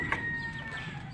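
Backyard chickens cluck softly against a steady farmyard background, with one brief, brighter call near the start and a faint sustained tone running throughout.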